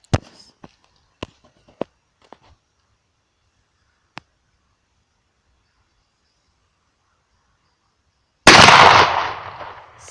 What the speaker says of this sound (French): je vais essayer de tirer dans le carton qui est là-bas à 25 mètres